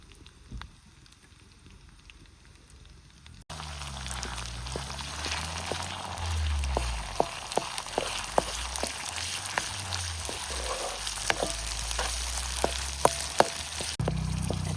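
Masala spices added to reddened onions sizzle and crackle in a hot pan for dhaba-style egg masala, a steady close frying hiss with sharp pops scattered throughout after a quieter opening.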